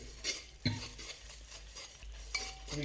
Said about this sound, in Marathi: आपल्याला हा गूळ थोडा भाजून घ्यायचा आहे